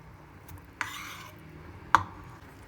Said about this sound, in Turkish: Tereyağı erinceye kadar karıştıracağız.